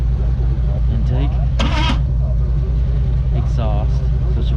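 A 1959 AMC Rambler Ambassador, abandoned and with a stuck cylinder, has its engine cranked over with a steady low rhythmic chug that never catches, while people talk nearby.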